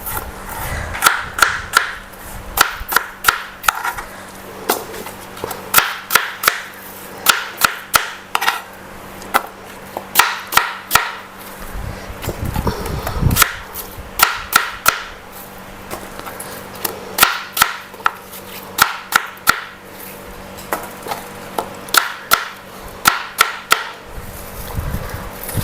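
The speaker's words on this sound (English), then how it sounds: "So I'm just going to roughly chop those." A knife roughly chops apple and peach slices on a cutting board, with quick bursts of sharp, close taps separated by brief pauses throughout.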